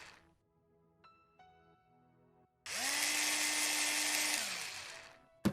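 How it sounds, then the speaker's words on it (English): A power drill bores holes into a wall for mounting a Google Nest wireless doorbell: faint clicks and handling first, then one loud sustained whining drill run of a couple of seconds that winds down, close by. "Grab your drill and make holes where you've made the marks."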